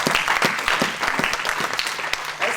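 A church congregation claps steadily and loudly, a dense, sustained burst of applause from many hands that carries on for the whole stretch without voices.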